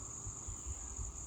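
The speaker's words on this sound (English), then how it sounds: "there's a few bees floating around here" A few bees buzz faintly around an outdoor work area where a 1978 Ford F100 truck is being sanded, a soft, steady insect drone with no talk.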